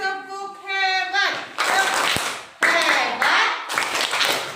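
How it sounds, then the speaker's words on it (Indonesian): In a classroom, children clap in short rhythmic bursts of a patterned cheer, loud and close, alternating with chanted voices between the claps. "Kasih tepuk hebat."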